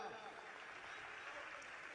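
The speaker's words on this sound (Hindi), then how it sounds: "ताली बजाओ।" A crowd at a devotional gathering claps together in a steady, dense patter that fills the room, with voices mixed in underneath.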